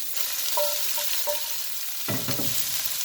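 Rice noodles tossed into a hot wok with chicken and vegetables for lo mein, a steady broad sizzle with several bright scraping stirs and a burst of louder frying near the end, no voices.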